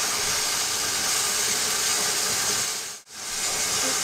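Steady, loud hiss of steam escaping from a steam canner processing jars of pasta sauce in a home kitchen, continuous with a brief dip before resuming.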